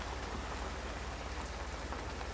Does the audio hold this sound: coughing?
no